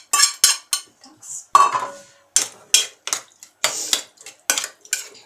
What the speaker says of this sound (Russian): Томат с зажаркой размешаю я.